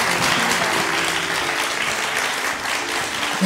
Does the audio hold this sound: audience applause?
yes